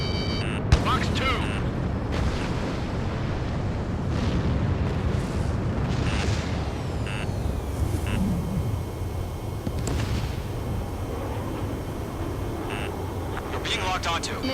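Missile explosions and jet noise from the combat flight game Ace Combat 7 make a dense, continuous rumble with scattered bursts and blasts and sharp alert tones throughout.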